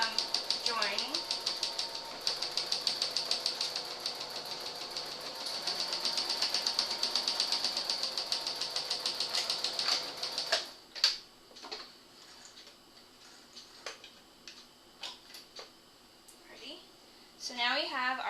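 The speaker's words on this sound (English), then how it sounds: "we're just going to sew, back stitching at the beginning for a nice strong" A sewing machine backstitches and then sews a skirt side seam with a pocket piece, giving a fast, close mechanical ticking for about ten seconds before going quiet. A few clicks and handling noises follow, with a voice talking briefly.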